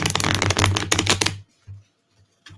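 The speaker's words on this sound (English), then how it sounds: "I am using my holographic tarot card deck" A holographic tarot card deck being shuffled, a dense rapid riffle of cards for over a second, then a few faint soft taps and rustles in near silence.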